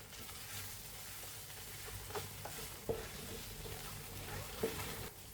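Turmeric and chilli powder stirred and frying in hot oil for a homemade tomato chutney, a steady soft sizzle with a few scraping stir clicks of the spoon against the pan.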